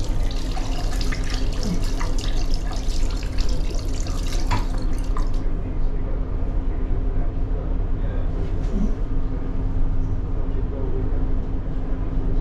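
Water runs steadily from a tap into a sink, a continuous broadband rush with no talk over it.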